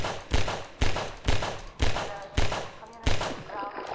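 Rapid gunfire from a weapon in the video game Half-Life 2, with six or seven sharp, loud shots in an uneven rhythm, each followed by a short decay, and no talk over them.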